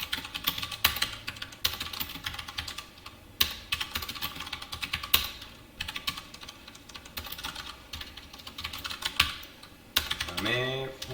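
Dense, steady clatter of someone typing code on a computer keyboard, close and continuous with brief pauses between bursts, over a faint room hum.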